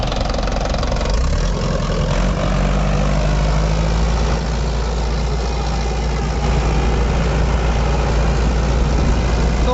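A tractor engine running at high throttle, heard close and loud as a steady, unbroken low drone with a rough, throbbing texture throughout, and no voices.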